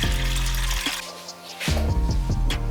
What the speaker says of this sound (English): Now in a pot or a pan, add some water